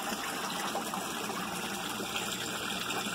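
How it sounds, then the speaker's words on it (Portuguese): Steady trickling and splashing as water pours out of the settling basin of a tilapia tank system, constant and close with no voices. "A água sai aqui, ó."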